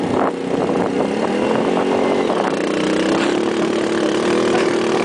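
A vehicle engine revving steadily and loudly as a learner driver accelerates, a continuous close drone with the pitch rising gradually, with no talk over it.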